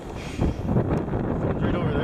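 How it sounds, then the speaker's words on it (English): Wind gusts across a cold winter hammock campsite, a continuous close rumbling roar that buffets the microphone and swells slightly partway through. "The wind just picked up"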